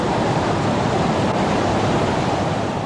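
Water pours continuously over a hand-poured 1937 cement mill dam beside a water wheel at Gomer's Mill, a loud, dense, unbroken rush close to the listener.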